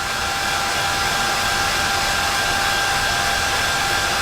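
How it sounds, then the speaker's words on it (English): A hairdryer on its slow speed setting blows steadily over a freshly painted Tamiya 1/20 RB6 model, a constant close, even rushing whoosh with no pauses for its whole length. "You come back in with your hairdryer, slow speed setting"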